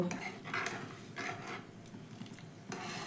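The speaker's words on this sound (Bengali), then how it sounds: "তো এবার আমি ভালো করে চিনিটা মিশিয়ে নিচ্ছি জলের সঙ্গে" Sugar being stirred into water in a pot to make syrup, with soft repeated scraping and light clinks of a utensil against the metal pot, close and fairly quiet with no talking.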